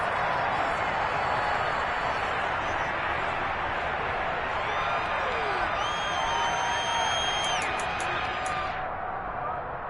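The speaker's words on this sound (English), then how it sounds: "Plenty of shouts from this crowd as they watch the replay." Crowd at a 49ers vs Giants football game, a dense, steady roar of shouting and cheering from many people that stays loud throughout, with a few whistles near the end.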